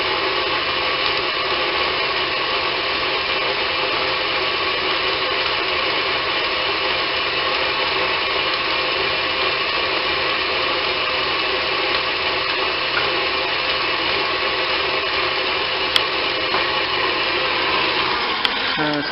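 An electric mixer whirs steadily at close range, mixing matzo flour, salt and baking powder for tamale dough, a continuous even motor hum that stops briefly near the end.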